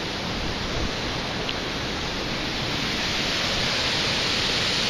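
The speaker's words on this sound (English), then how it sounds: "You can hear the water, see the water." Floodwater rushing beneath a century-old bridge near Ozark, a constant, broadband roar like a waterfall that holds steady and loud throughout with no pauses.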